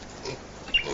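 A pig on a farm gives a brief, close grunt within a second, with a sharper snort near the end.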